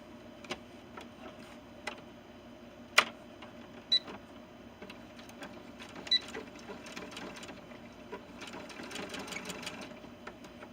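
A sewing machine runs in short stitching bursts with ticking mechanical clicks while closing a hole in small ball-jointed-doll pants, nearby and fairly quiet, with no speech.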